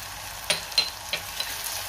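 Tomatoes sautéing in hot oil for a Maharashtrian ghevda bhaji, a steady close sizzle broken by a few short scraping stirs of the pan, with no talking.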